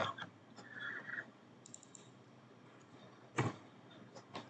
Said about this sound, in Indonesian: atau kita ketik manual aja